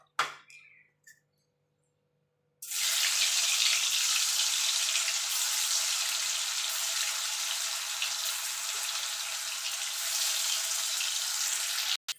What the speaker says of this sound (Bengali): এই তেলে আমি পনিরগুলো ভেজে তুলে নেব